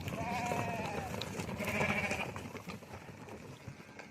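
A flock of young female yearling sheep bleats near and far, overlapping calls rising over a continuous farmyard murmur, with a person speaking faintly in the background.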